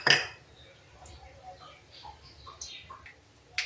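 Mustard seeds and cumin spluttering in hot oil in a pan: after an opening burst, small scattered pops and crackles crop up irregularly, close but faint, then a sharper crack near the end.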